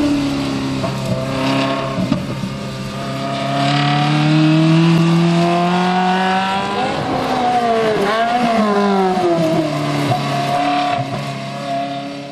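A car's engine revs loudly and close while driving, pitch climbing and falling through several gear changes with a throaty rising and dropping drone.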